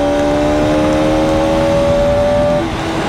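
Bajaj Pulsar RS200 motorcycle accelerating hard toward 100 with a loud, steady engine drone and rising whine held throughout, close and continuous with no talk.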